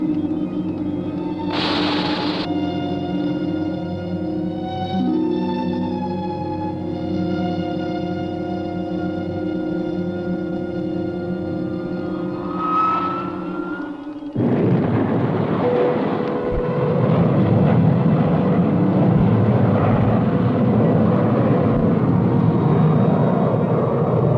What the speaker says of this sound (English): Reversing ship for landing.